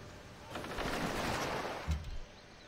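A military unit firing in Civilization V, a quick rattling volley of gunfire lasting under two seconds with a sharp thump near the end, fairly faint overall.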